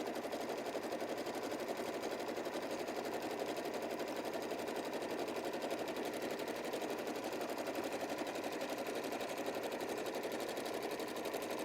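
A sewing machine stitches a seam in 100% cotton fabric, its fast, even needle rattle running steadily and unbroken throughout, close and moderately quiet.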